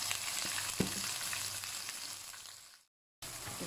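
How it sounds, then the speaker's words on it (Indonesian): Blended spice paste sizzles and fries in hot oil for a coconut serunding with kaffir lime, a dense close hiss with a brief stir, then a sudden cut to silence before the frying resumes. "Okey, dah panas, kita masukkan bahan yang di blender tadi ya."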